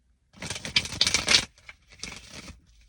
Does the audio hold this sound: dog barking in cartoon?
no